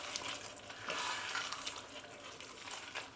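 A spoon stirs a pot of simmering vegetable goulash with smoked paprika, carrots, parsnips and potato: a steady, soft, close wet churning and bubbling hiss with small scraping swells, no voices.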